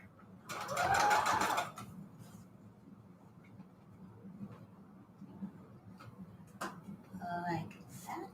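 A sewing machine runs in one loud burst of rapid stitching while pleating a bedsheet ruffle, then falls to quiet handling of fabric, with soft talk and small clicks afterward.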